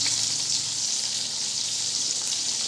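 Pointed gourd (potol) frying in hot oil makes a continuous, even, close-up sizzle and fine crackle, loud and unbroken, with no voices over it.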